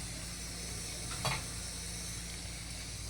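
Whole spices for a tempering crackle in hot oil on a low flame, a soft steady sizzle with one brief pop of stirring, faint under a constant low hum.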